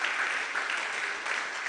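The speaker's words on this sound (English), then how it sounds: "I want to invite you now in a very big way to applaud our team of experts" Warm applause from a conference audience at an African youth forum on adaptation finance, dense steady clapping from many hands filling the room at moderate distance, with no break.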